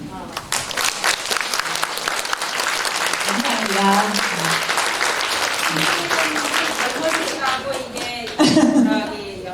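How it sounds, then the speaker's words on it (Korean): A church congregation at a women's mission society meeting applauds. The clapping is dense and sustained for several seconds and swells briefly near the end, with a voice speaking over it. "그럼 증경회장님들 우리 단체로 인사하시고 박수 쳐주시겠습니다."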